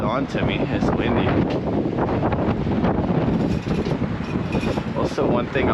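Strong wind buffets the microphone in a steady roar with gusty rumbling, loud and close throughout, outdoors beside a semi truck at a fuel stop on an Oklahoma tollway.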